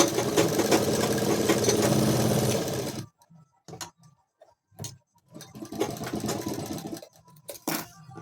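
A sewing machine stitches a seam on a ladies' pant, running fast and continuous for about three seconds, then a few short stop-start bursts and scattered clicks of handling.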